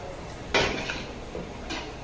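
Oil, garlic and onion being stirred in a cooking pan, a sharp metallic clank of utensil against pan followed by soft scraping and sizzle, with a second lighter knock near the end.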